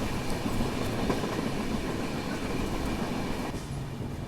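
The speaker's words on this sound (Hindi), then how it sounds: "बस बढ़ रही है गाड़ी अपनी तंदूर की ओर ठीक ठाक रफ्तार में।" Rapti Sagar Express passenger train rolling at moderate speed toward Tandur, a steady close rumble of wheels and carriage noise with faint rhythmic clatter, continuous throughout with no talk.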